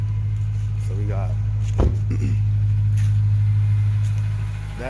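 A 1998–2006 Chevy Tahoe 5.3 V8 with a newly fitted cold air intake idles steadily and close by, a low constant engine drone throughout, with brief speech and a short knock partway through.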